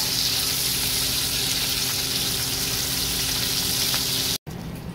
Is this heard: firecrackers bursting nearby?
no